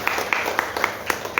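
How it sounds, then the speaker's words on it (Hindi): Sparse, scattered hand claps from a church congregation applauding the pastor, a few distinct claps at irregular intervals, fairly close. "तो पास्टर के लिए एक ताली बजाएंगे हम"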